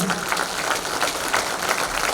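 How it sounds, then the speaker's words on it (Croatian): An audience applauds a folk group being welcomed onto the stage at a Petrinja evening of song and tamburica music, the clapping steady, dense and moderately loud throughout the short stretch. "da ih pozdravite jednim velikim pljeskom"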